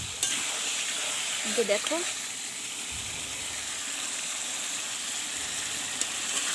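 Spiced potato curry (aloo dum) is stirred and fried in a pan with ground ginger, garlic, cumin, garam masala and bay leaf paste. It gives a soft, continuous sizzle close by, and a voice briefly speaks over it.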